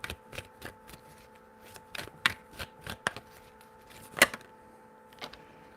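Tarot cards are shuffled in a quick series of crisp riffles and taps, close and fairly quiet, with one sharper snap near the end and no voice.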